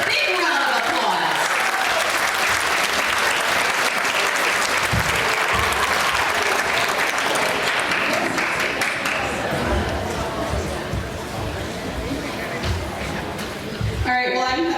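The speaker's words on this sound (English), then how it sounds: "He gets a big round of applause." A crowd at a town's 150th anniversary celebration in Tabor, South Dakota, breaks into a big, loud round of applause that holds dense and steady for most of fifteen seconds, with cheering and voices mixed in before fading near the end.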